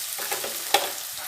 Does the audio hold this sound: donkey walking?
no